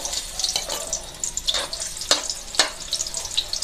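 Onion is dropped into hot olive oil in a pan and sizzles close by, with sharp crackling spits and pops over a soft frying hiss.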